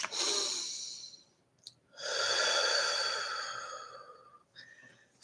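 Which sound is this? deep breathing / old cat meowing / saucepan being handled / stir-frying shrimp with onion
deep breathing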